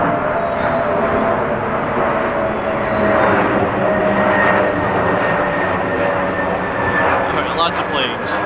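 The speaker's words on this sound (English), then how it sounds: "we have another plane coming in." A propeller plane drones steadily overhead at a wildflower reserve in Raccoon Creek State Park, Pennsylvania, a continuous broadband engine roar that swells slightly midway and fills the whole stretch, with faint outdoor background beneath.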